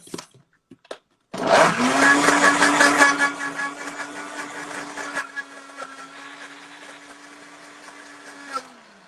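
A kitchen blender whirs as it purées banana ice cream with powdered milk and a little water: a few clicks, then a loud steady motor whine for about seven seconds that gradually eases before stopping.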